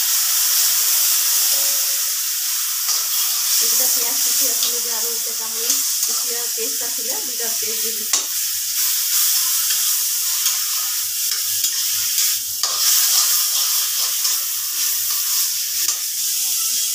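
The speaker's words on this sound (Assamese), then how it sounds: "তো কেৰাহীত তেল দি দিম" Oil sizzles and fries loudly in a wok while a fish-egg curry is cooked, giving a steady, close, broadband hiss throughout, with a brief clatter of stirring partway through and no talk.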